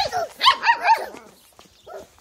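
A dog gives a few quick, loud, close barks and yips in a short burst, followed by a fainter yelp after a pause.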